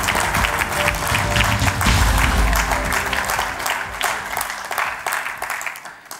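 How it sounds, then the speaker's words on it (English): Sustained audience applause at the WTM Pride of Travel Award ceremony, loud and steady throughout before thinning slightly near the end, with a low musical tone beneath. "another round of applause for the winner of the Pride of Travel Award, Joe Rigby."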